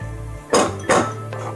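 Utensils clink sharply against a bowl while Thai rice noodle salad is tossed with its dressing: two quick, bright knocks close together, then a fainter tap, over a low background hum.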